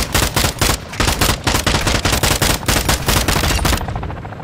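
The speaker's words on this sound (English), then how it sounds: "There's so many bots shooting." Sustained automatic gunfire from bots in the DMZ shooter game, rapid loud bursts of shots in steady rhythm filling nearly the whole stretch before cutting off abruptly.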